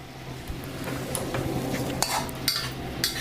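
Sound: stir-frying vegetables in cartilage jungle curry

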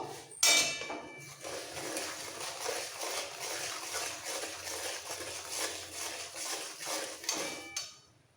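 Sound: stirring fish with turmeric powder in a pan

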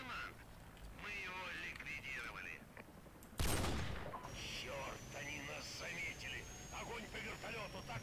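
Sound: gunfire in a video game

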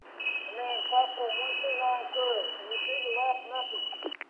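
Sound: firefighter PASS device alarm heard over analog fire radio

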